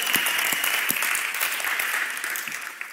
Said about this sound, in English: If you're going to clap, might as well do it.